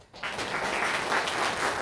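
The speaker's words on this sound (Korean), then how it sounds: "세 분께 뜨거운 박수 부탁드립니다." Steady applause from a crowd at a book launch celebration, a dense wash of clapping that starts almost at once and holds evenly for a couple of seconds.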